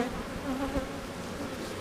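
Honey bees swarming over a hive frame full of bees, a dense steady buzz close by with a few louder passes near the listener, no talking.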